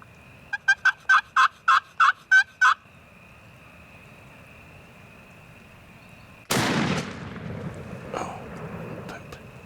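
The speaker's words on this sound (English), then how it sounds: "So I take the shot." Wild Merriam's turkeys gobble in a quick run of bursts in the New Mexico mountains, then after a pause a single loud gunshot cracks at the bird from about 80 yards and rolls off into a fading outdoor echo.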